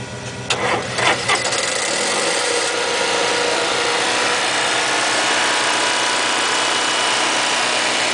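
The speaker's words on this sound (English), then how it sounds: "your generator usually takes 2 shots to start it" A Safari motorhome's onboard generator cranks with a few brief bursts, then catches and settles into a steady, loud running drone that continues unbroken to the end.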